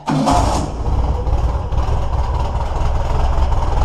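A Yamaha Blaster ATV engine fires up almost immediately and keeps running loud and close, a steady rough idle with a slight dip partway through.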